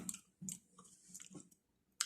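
Moist, squishy chewing on fresh raw liver close to the mouth, coming in several short bursts of soft clicks and squelches separated by brief pauses.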